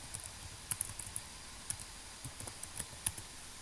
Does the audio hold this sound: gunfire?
no